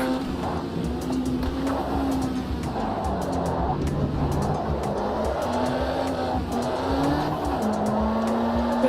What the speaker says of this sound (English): We're still wheel spinning